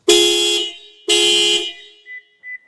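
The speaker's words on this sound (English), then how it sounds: "sometimes it may set off the alarm" A Toyota RAV4's factory car alarm blares in two long, loud horn blasts, close by and alone, followed by two short, quieter electronic chirps.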